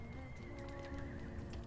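Horse neighs in Rome: Total War, a rising whinny over a steady game backdrop with faint hoof clip-clop, loud and close, no talk.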